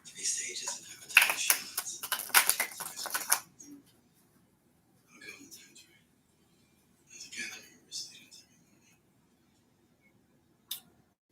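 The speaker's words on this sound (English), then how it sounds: "I'm just shuffling it because I have never shuffled this deck before" A tarot card deck is shuffled in quick crisp riffling bursts up close, followed by a few softer separate shuffles and a lone card snap, with some speech alongside.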